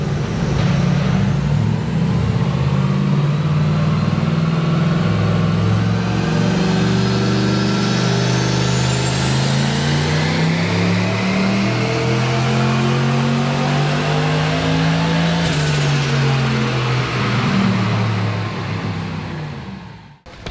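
Turbocharged 1UZ V8 from a Lexus LS400 pulling hard on a dyno, a loud sustained engine roar rising steadily in pitch with a climbing turbo whistle, then cutting off abruptly near the end.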